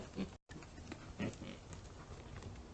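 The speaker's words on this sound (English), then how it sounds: "It was making pig noises" Pig-like grunting and oinking from footage recorded in Billings, Montana, heard as short rough bursts that break off briefly and then continue in a noisy, close recording.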